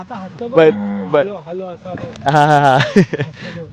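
Bulls at a village bullock cart race in Rampur give long, loud, drawn-out moos up close, mixed with people's voices nearby.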